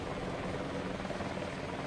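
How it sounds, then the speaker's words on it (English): An American helicopter in the video game Battlefield Vietnam gives a steady, dense rotor and engine drone that stays loud and unbroken for the whole stretch, with no voices over it. "And I'll try to take out this American helicopter."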